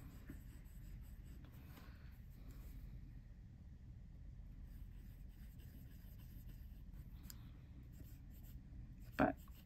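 A TWSBI Eco Heat fountain pen with a medium nib scratches faintly and continuously across paper, a soft close scribbling over a low background rumble, ending in one sharper knock.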